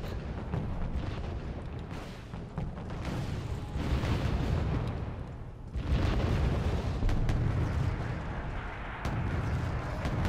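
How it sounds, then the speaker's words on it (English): Continuous heavy artillery barrage in the Wargame Red Dragon strategy game on a mountain battlefield, a dense rumbling wall of overlapping explosions that dips briefly near six seconds and then resumes at full strength, with no talk. "now just giving them artillery hell. Absolute artillery hell"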